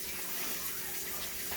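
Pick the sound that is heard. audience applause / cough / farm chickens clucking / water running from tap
water running from tap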